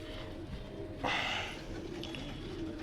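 A captured red-eyed female pigeon coos softly and close, low murmuring tones against a steady background hum, with one brief brighter rustle in the middle.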